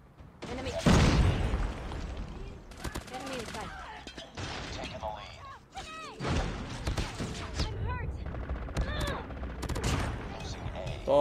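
Bursts of M13 assault rifle fire in Call of Duty Mobile, close and loud, in rapid volleys with heavy thumps, firing through most of the stretch with brief pauses between bursts.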